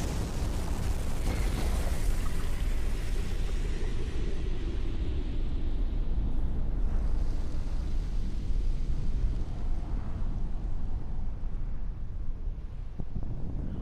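A huge explosion in Resident Evil Revelations 2 roars as a loud, sustained low rumble that fills the whole stretch, slowly thinning out toward the end with no speech over it.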